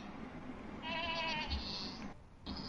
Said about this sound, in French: trouve les chèvres?